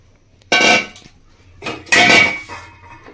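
Rice and lentils being washed in a pot, heard as two bursts of clattering metal and swishing a second apart, loud and close, with a brief clink between them.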